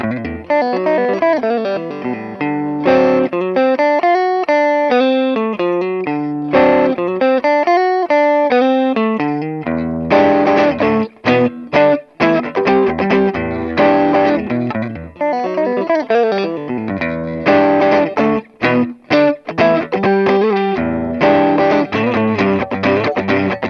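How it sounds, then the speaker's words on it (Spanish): An electric guitar played through a Walrus Audio Voyager true-bypass overdrive pedal rings out loud and close, with sustained chords giving way to choppy, rhythmic strummed stabs and short pauses. "Este es el pedal Voyager Overdrive de Walrus Audio, un pedal True Bypass de distorsión Overdrive que también puedes usar como preamp."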